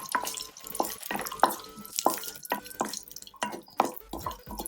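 Chopped cashews roasting in a pan for rava kesari, heard as a run of sharp clicking stirs and light crackles, close and fairly quiet, with no talk.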